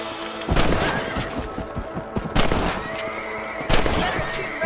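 Rifle gunshots ring out while hunting rabbits in Red Dead Redemption, three sharp loud bursts spaced about two seconds apart over a low rural ambience, with no speech.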